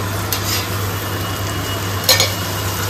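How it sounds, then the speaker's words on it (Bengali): Water is poured into a pan of frying spices, setting off a steady close hiss of sizzling with a few light utensil clinks and no talking. "মশলার এই প্লেটটা ধুয়ে অল্প একটু জল দিচ্ছে"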